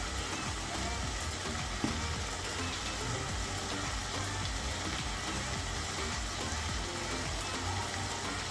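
Pork frying in a pan with soy sauce just added, giving a steady, dense sizzle that hisses evenly throughout at close range, like rain on a surface.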